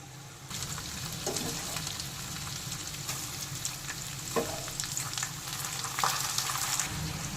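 Whole spices such as cardamom, cinnamon, cloves and bay leaves, with washed rice, sizzle and fry in a pan while being stirred, a steady close crackle broken by occasional scraping knocks.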